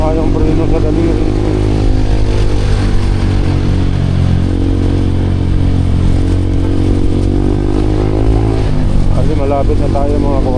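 A small motorcycle hums steadily while riding, its engine drone and road rumble filling the background as a rider talks over it throughout.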